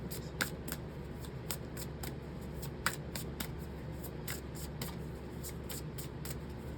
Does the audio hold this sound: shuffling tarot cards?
yes